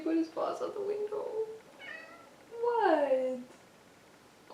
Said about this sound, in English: I grabbed him and he go meow